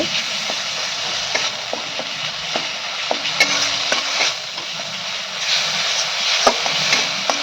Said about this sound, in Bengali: আদাটা যখন ভালো করে ভাজা হয়ে যাবে